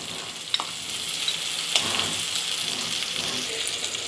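Boiled mutton is stirred into a curry masala for Punjabi mutton curry, producing a continuous soft sizzle with wet scraping and a few sharp clinks of the spoon against the pan.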